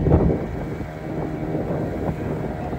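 A fishing boat near St Mary's Island crosses an estuary mouth in calm weather, giving a steady low engine rumble under continuous wind buffeting on the microphone, with no voices.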